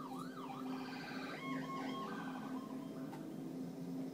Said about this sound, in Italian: L'ambulanza.